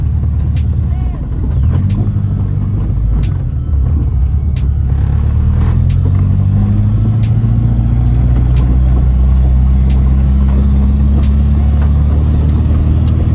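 A right-hand-drive Honda Integra Type R engine pulls steadily through the gears on a rough road, a loud close cabin drone whose pitch rises and shifts with each change, with people talking over it.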